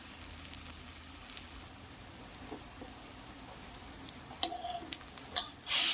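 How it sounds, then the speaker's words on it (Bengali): Sesame fritters (til bora) fry in oil over a low gas flame, giving a faint, sparse crackle and soft sizzle with scattered pops. A louder rustling burst comes at the very end. "গ্যাসের ফ্লেম লো রাখতে হবে, আস্তে আস্তে ভাজা হবে এবং লাল হয়ে ভাজা হবে"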